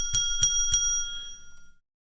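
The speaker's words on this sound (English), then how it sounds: "Where's that bell?" Three quick, bright rings of a bell sound close together and then ring out and fade over about a second, alone with no voices.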